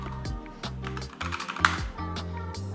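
Fingers type on a computer keyboard in a quick run of light clicks over a steady tonal background hum.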